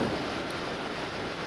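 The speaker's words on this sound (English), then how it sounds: "Man, it's windy." Strong wind buffeting a moving motorcycle rider, a loud continuous broadband rush with no pauses, close and steady throughout.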